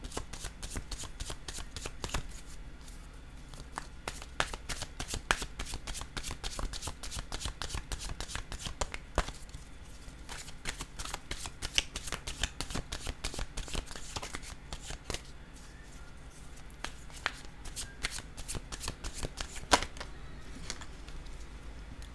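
Tarot cards shuffled by hand over and over, a long steady run of crisp riffling flutters and soft slaps, close and fairly quiet, with no talk over it.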